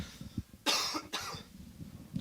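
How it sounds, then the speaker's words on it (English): A person coughs twice close by, sharp and loud, with quiet murmuring around it. "Fighting a cough."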